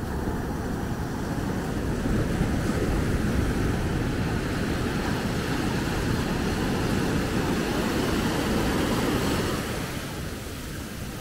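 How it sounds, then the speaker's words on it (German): Ocean surf at Punta de Maspalomas on Gran Canaria, a continuous broad wash of breaking waves with wind noise on the microphone, swelling slightly louder mid-way and easing near the end, no voices. "gerade im Moment wird es wieder etwas lauter, das Meer"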